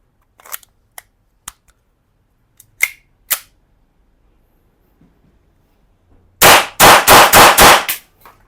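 An ISSC M22 blank pistol fires a rapid burst of five or six sharp, loud shots after several lighter clicks and handling knocks from the gun.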